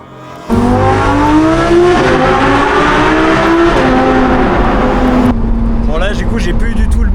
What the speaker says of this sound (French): là actuellement je suis dans une aberrante R8 V10 par un pilote aberrant